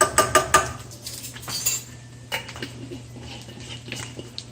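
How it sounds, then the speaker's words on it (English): A spoon clinks against a pot as seasoning is stirred into ground beef, several sharp taps at first, then softer scraping and stirring. "Just get this stirred in. Make sure all of our beef is spiced."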